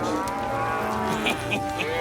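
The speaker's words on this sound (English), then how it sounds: "My cattle!" Cattle low with a sustained, droning moo close by, joined by a few higher, brief cries in the background.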